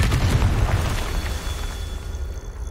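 A Confringo spell explosion in Hogwarts Legacy: one heavy, booming blast with a deep low rumble that swells at once and then fades away slowly over a couple of seconds, alone without voices.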